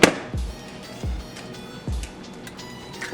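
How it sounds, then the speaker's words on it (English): Eggs cracked into a bowl for tri-color rainbow cookies, three sharp taps spaced about a second apart, each followed by faint shell and liquid sounds, close and fairly quiet. "Then I'm gonna go ahead and crack some eggs in here."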